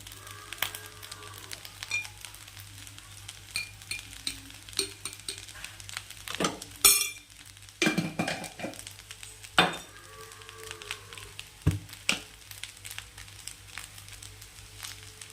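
Chicken masala frying in a pan, with a steady soft sizzle and repeated scraping stirs and clinks of a utensil against the pan, close and without talk.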